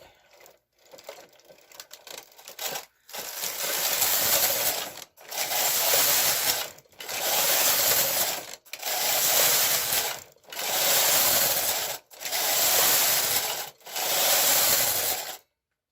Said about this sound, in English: I'm now going to start knitting and see what happens.